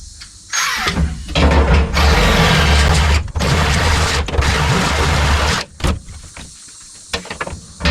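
A power drill enlarges a hole for a bracket during a pickup truck build, with loud sustained whirring bursts broken by short pauses and restarts, close to the listener.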